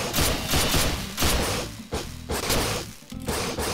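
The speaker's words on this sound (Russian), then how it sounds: "Да кто это стреляет по мне?" Rapid bursts of gunfire ring out in Garry's Mod while enemies shoot at the player, loud, dense and nearly continuous, with brief dips between volleys and no talk.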